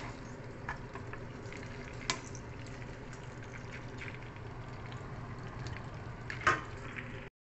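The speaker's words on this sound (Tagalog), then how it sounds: "Kasi mag-fried ako ng onion at saka garlic." Onion and garlic frying in oil rendered from chicken in a saucepan, a steady close sizzle with light crackle and a couple of brief utensil knocks against the pan.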